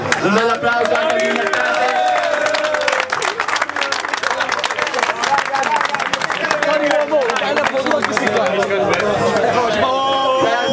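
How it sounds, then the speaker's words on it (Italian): Applause and crowd chatter for the Vimercate team at an amateur eleven-a-side football tournament award ceremony, a dense sustained wash of clapping and murmuring voices with someone speaking over it. "un bel applauso anche a"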